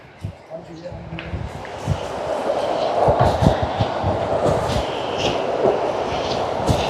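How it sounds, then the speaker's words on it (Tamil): The sixth waterfall of a tall-tree forest trek in the Pothigai hills, heard as a steady broadband roar of rushing water that swells and holds, with people talking over it. "அருவியோட சத்தம் எப்படி இருக்குது பார்த்தீங்களா?"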